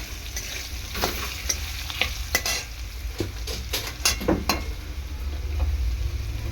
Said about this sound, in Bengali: ভালো করে আলুটাকে এরকম ভেজে নেবো।